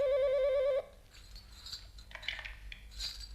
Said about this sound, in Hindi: तुम्हारा फोन है सिकंदरा?